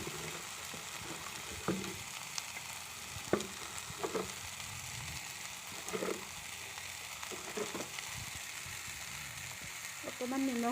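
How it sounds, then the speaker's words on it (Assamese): Vegetables for spring rolls fry gently in a pan over a low flame, a soft steady sizzle with occasional scraping stirs and light clinks, close and even throughout. "চব্জিখিনি কম ফ্লেমত ভাজিব লাগিব।"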